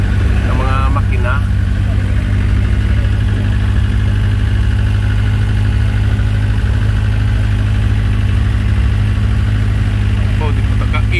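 A loud, steady engine drone runs continuously throughout, low and rumbling, with faint voices briefly surfacing over it.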